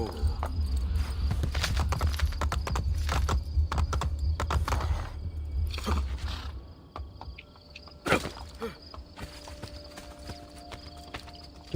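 Horse hooves in a video game clip-clop in a rapid, steady gallop, then slow and stop, followed by a few scattered clicks and a sharp thud.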